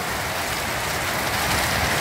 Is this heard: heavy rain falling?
yes